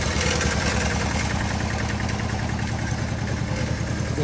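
A diesel vehicle engine idles steadily and fairly loudly throughout, a constant low rumble with no revving and no talk over it.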